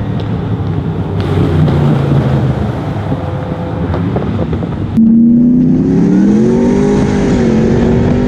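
A Toyota Land Cruiser 4x4 roars loudly up close on a race track, with heavy wind buffeting and the engine note climbing sharply as it accelerates hard.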